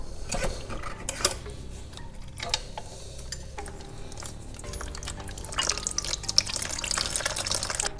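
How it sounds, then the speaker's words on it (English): Coolant draining from the bottom of a Dodge Dakota R/T 5.9L Magnum engine during an engine swap, a steady trickle and drip with light metallic clinks, close and continuous, with no talking. "this one is without a doubt gonna have coolant in it, so she's already draining out the bottom."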